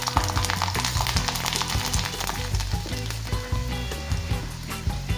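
Peeled garlic fries in hot oil, giving a loud, dense and continuous sizzle close up. A steady tonal layer that sounds like background music runs alongside it.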